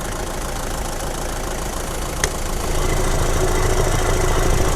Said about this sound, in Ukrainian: двигун працює м'яко, рівно, не трясе його, не тіліпає